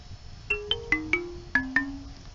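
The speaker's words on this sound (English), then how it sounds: "I got a phone call coming in" Phone ringtone for an incoming call: six bright, clear electronic tones in a quick melodic pattern, each with a sharp start and short ringing decay, close and alone.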